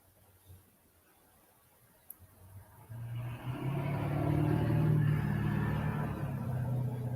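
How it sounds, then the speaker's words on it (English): A loud truck drives past a house, starting as a faint distant rumble and swelling after a few seconds into a heavy, low engine roar that stays strong as it goes by. "Sorry about the freaking loud ass truck that just drove by the house"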